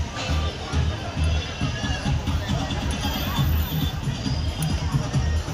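A crowd gathering at a ticket stall, a dense babble of many voices close by with a steady undertone of street bustle and no single voice standing out.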